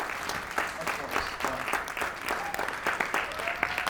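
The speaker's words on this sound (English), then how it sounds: "Big applause for Dave" A theater audience in Blairstown, New Jersey, at a holiday concert claps in a sustained round of applause, dense and even, heard from within the room.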